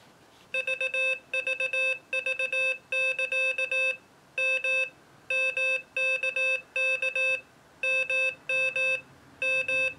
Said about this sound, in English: Let's see what CW Generator does.